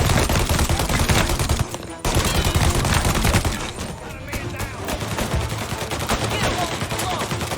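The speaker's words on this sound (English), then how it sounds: "Gunshots heard." Rapid bursts of gunfire in Mafia: Definitive Edition, dense and loud, with a brief cutoff partway through before the shooting resumes at a steady, slightly softer intensity.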